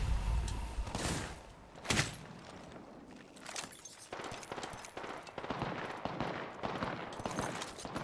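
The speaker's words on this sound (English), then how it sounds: "Look at that, they're shooting so much." Bursts of rapid gunfire in the video game Apex Legends, with sharp cracks and sustained volleys at close and middle distance, ringing on without speech.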